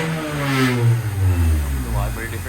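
Car engine fitted with an HKS Jasma exhaust revving up and down, a loud close growl with rising and falling pitch that holds steadily for a few seconds.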